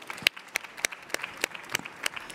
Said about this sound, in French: Encore plus d'applaudissements.